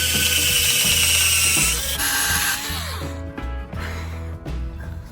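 Power drill boring a hole into a pallet wood board, a high whining motor with grinding bites into the wood that winds down toward the end, loud and close.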